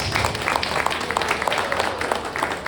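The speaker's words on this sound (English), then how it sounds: "Let's give Eric one more round of applause." A crowd at a poetry evening gives one more round of applause, a brief burst of close, busy clapping.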